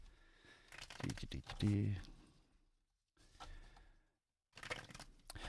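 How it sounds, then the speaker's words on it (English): Tarot cards being shuffled close up in bursts of crisp riffling and crackling, separated by short silent gaps, with a faint voice murmuring at the start. "I'm just being told to keep shuffling for a little bit"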